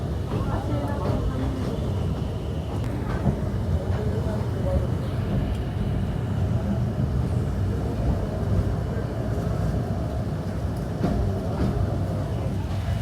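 Train pulling away from Feni station on a journey toward Dhaka, Bangladesh, giving a steady, close rumble of moving carriages with rattling and clatter throughout, without pause.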